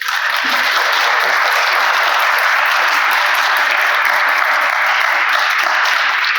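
A conference audience applauds a speaker, giving a loud, even wash of many hands clapping that holds steady without a break from start to finish.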